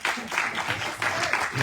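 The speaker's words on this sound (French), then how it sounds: "comme vous ne m'acclamez pas, je m'acclame moi-même." Brief, close hand clapping from a preacher applauding himself during a French-language church sermon, a quick run of claps lasting under two seconds.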